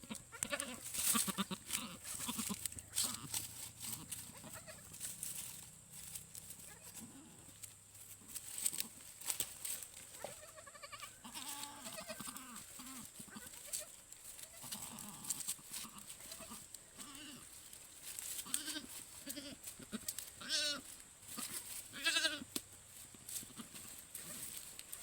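A goat bleats repeatedly at close range just after giving birth, the calls coming in uneven bursts over continuous bright farmyard background noise.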